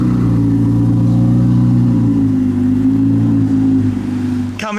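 Ferrari race car engine revving loudly and close, a steady deep drone with strong harmonics that dips slightly midway before a sharp rising burst at the very end.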